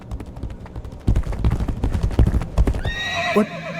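A horse gallops in the video game Legacy of Kain: Ascendance, loud rhythmic hoofbeats pounding close by, followed by a short neigh near the end, with a voice speaking over part of it.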